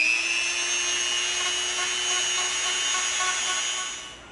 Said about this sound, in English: you can come in with your Dremel